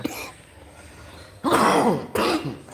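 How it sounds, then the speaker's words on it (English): Close up, someone clears their throat with a rough rasp, then coughs twice in quick, harsh bursts. "Coughing."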